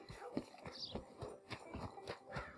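Steady clip-clop of horse hooves at a walking pace in Red Dead Redemption 2, fairly quiet, with faint ambient background and no talking.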